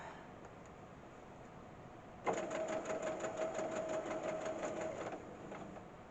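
A sewing machine stitches down the neckline of a top, starting after a quiet pause and running steadily in a fast, even, close-up mechanical whir for about three seconds before stopping.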